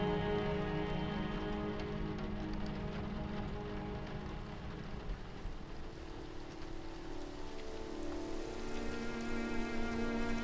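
Light rain falls steadily on surfaces nearby, a continuous soft patter and hiss with no pauses, at an even level throughout.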